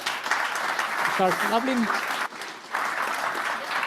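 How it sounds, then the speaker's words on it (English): Applause from the audience at a smart cities demo day event, steady clapping that fills the room, with a brief dip and a short spoken phrase over it. "I think we can give a big applause"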